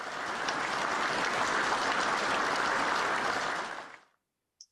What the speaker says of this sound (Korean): 박수로 축하해 주시기 바랍니다.